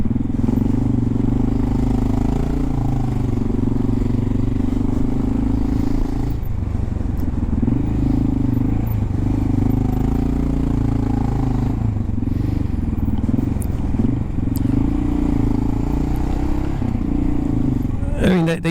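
Honda XR650L motorcycle engine while riding, a steady loud low drone with shifting rumble and some clatter throughout, no clear talk over it.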